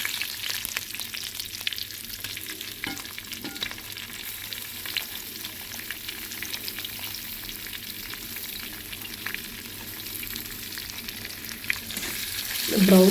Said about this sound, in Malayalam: ഇനി നമ്മൾ ഇട്ട് കൊടുക്കേണ്ടത് പച്ചമുളകും പിന്നെ സവാളയും എല്ലാം ഇട്ടാകുമ്പോൾ നമ്മൾ അതിൽ കൊടുത്തിട്ട് നല്ലോണം വറുത്തെടുക്കാം